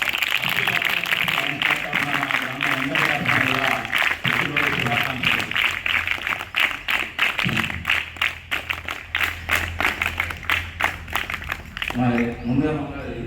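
A village crowd claps for the donor at a Lions Club water purifier distribution in Arnakonda, a rapid burst of many hands that fills the middle of the clip alongside someone speaking on a loudspeaker.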